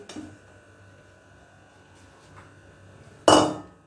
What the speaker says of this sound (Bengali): এই ঝুড়িটার মধ্যে আমি জল ঝরানোর জন্য ঢেলে দিচ্ছি